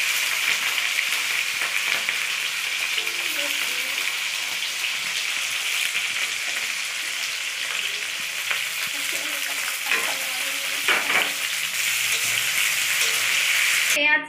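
Chopped onion fries in hot oil with garlic for a chilli chicken made in a hostel kitchen. The sizzle is loud, close and continuous, with a few soft stirring clicks.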